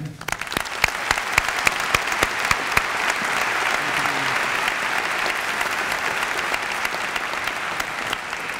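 An audience at a Carnegie Mellon Tepper School event applauds to welcome a speaker, a steady, sustained round of clapping from a full room with a few sharp close claps at the start.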